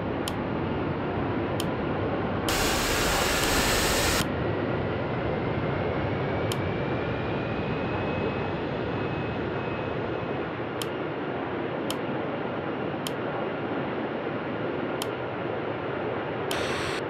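An Airbus A320-200 starts its engines in Real Flight Simulator, giving a steady, loud broadband roar with a slowly rising whine. Sharp clicks come at irregular intervals, and a brief burst of harsher noise sounds early on.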